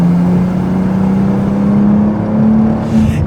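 BMW M2 G87 accelerating hard in fourth gear from around 3,000 RPM, a loud steady engine drone rising gradually in pitch from inside the car, with a brief whoosh near the end.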